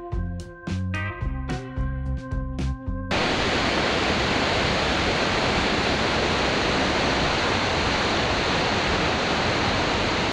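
After a few seconds of music, a loud, steady broadband roar of falling water from the Acquafraggia waterfalls in Lombardy fills the rest, constant and close.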